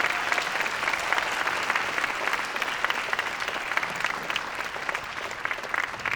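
An audience at a Day of Remembrance event applauds three fifth graders, a dense, steady round of clapping from a sizable crowd that carries on evenly for several seconds.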